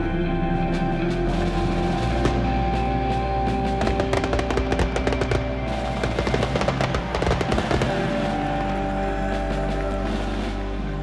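Fireworks exploding at a pyrotechnics event, a dense continuous barrage of loud bangs and crackles layered over a steady roar, building to a thicker burst of rapid pops midway.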